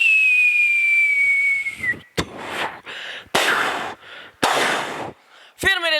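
At a youth festival mimicry performance, a voice imitates fireworks: a long descending whistle like a rising rocket, then a series of sharp pops and bursts of hissy crackle, ending in a quick fluttering whistle.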